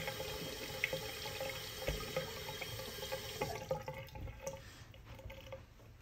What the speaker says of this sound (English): let me give it a little bit more of a rinse here